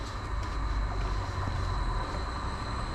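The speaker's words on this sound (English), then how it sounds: "the 1212 Greater Anglia service from Lowestoft to Norwich" A Greater Anglia train, unit 755327, on the Lowestoft to Norwich service pulls into the platform with a loud, steady low rumble and faint high whine throughout.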